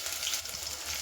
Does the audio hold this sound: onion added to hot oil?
yes